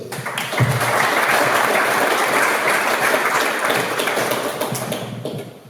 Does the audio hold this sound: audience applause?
yes